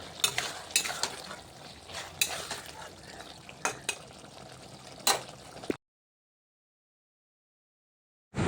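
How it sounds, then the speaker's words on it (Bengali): Mustard seeds and green chillies being ground for a pumpkin-vine chorchori in a village kitchen, an irregular scraping and clattering of stone and utensils, close and moderately loud, with sharp knocks, stopping abruptly into silence. "চচ্চড়ির জন্য এখন বেটে নেব সরষে আর লঙ্কা।"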